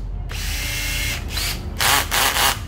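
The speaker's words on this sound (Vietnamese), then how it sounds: "các bạn khoan cỡ inox đi luôn ha" A Nati 12V 103 cordless drill bores into stainless steel, its steady high motor whine close and loud, surging in two or three pulses as the bit bites into the metal.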